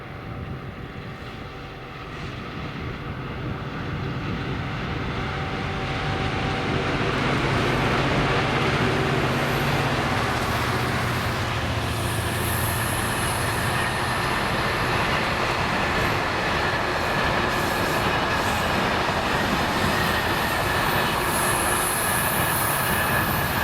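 A DRS freight train hauled by Class 66 locomotive 66304 passes at Cartland, its heavy diesel roar building over several seconds into a sustained loud rumble of wagons rolling close by, with high wheel squeal near the end.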